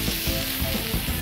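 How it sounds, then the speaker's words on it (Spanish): A ribeye steak sears in a pan, a loud continuous sizzle with crackling bursts and a faint rhythmic scraping throughout, close and steady, with no voices. "le voy a dar una pasada bien rápido al ribeye, 1 minuto y medio por lado, para que llegue el término medio rojo"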